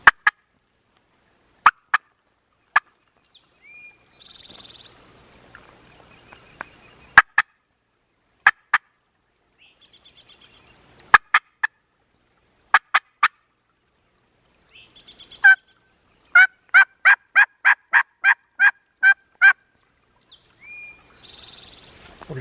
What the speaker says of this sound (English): Guarantee it's that turkey.